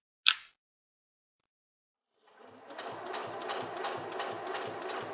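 A Singer Featherweight C240 sewing machine stitches through faux leather, starting after a brief click and a pause, then running as a steady, close mechanical whir with a rapid rhythmic needle pulse.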